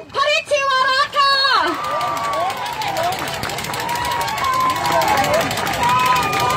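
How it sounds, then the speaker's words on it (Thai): A large crowd at a street protest at Kiak Kai intersection in Bangkok keeps up loud, continuous cheering and clapping, with whistles, after a voice over a loudspeaker. "ขอเสียงปรบมือให้กับเพนกวินพฤชชีวรัตน์ค่ะ"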